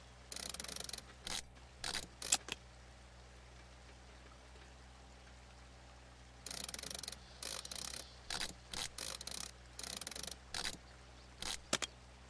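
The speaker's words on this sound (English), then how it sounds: "secure the pipe to the excavator with the 2 ratchet straps" Ratchet straps are cranked tight to secure a pipe to an excavator in a pipe-fitting video game, giving bursts of rapid ratcheting clicks separated by silent gaps, close and distinct.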